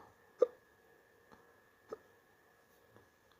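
Hiccups on waking, two sharp, close bursts with a couple of fainter ones after, spaced irregularly over a quiet background.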